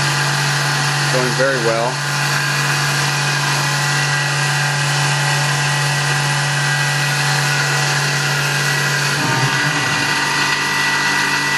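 Tormach PCNC 1100 CNC mill cutting a full-width slot 3/16 inch deep in a fixture plate, a steady loud machining drone with a constant hum throughout, while a person speaks briefly near the start.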